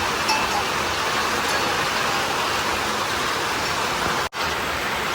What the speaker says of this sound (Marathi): इकडे पाणी सुरू आहे